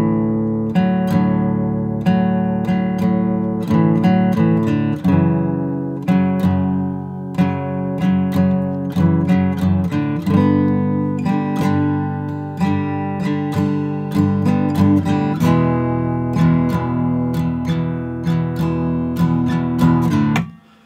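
Electric guitar in drop D tuning playing the intro riff of a song, a steady strummed and picked pattern of sustained chords repeating for about twenty seconds, close and alone with no talking.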